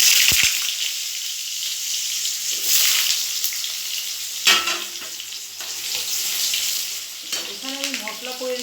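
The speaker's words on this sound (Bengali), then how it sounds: "আলু কষাবো" Potatoes sautéing in hot oil tempered with cardamom and cinnamon give a steady, fairly loud sizzling hiss with a few stirring bumps and a short voice near the end.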